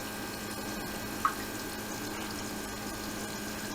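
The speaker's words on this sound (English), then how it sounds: "There'll be a lot of pumping there to get that water back in the kettle part." Keurig coffee maker pumping water back into its kettle reservoir, a faint steady hum and trickle throughout with one brief soft click partway through.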